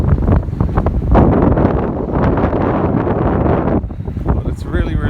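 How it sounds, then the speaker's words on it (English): Strong wind roars and buffets the microphone during a snowstorm in Dublin, loud and continuous, with gusts surging for the whole stretch and no talking. "But it's really, really windy."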